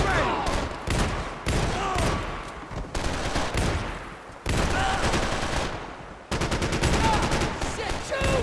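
Sustained automatic gunfire in the Max Payne 3 video game, dense loud bursts close by with brief breaks, and shouting voices faintly in the mix.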